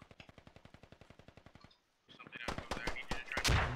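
Rapid automatic gunfire in the tactical shooter Squad, a fast steady burst of shots followed by a brief gap and then louder, denser shooting with talk mixed in.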